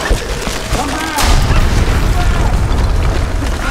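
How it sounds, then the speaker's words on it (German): Explosion in the Tomb Raider video game, a deep rumbling boom that swells and lingers loudly, with speech heard alongside. "die kleine Explosion, die wir ausgelöst haben"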